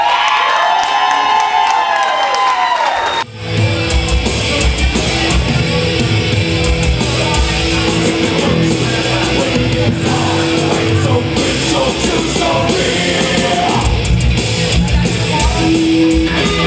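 A loud crowd at an American Legion hall in Troy cheers, whoops and applauds for the band, a long dense burst of clapping and shouting that starts abruptly after a brief musical tail.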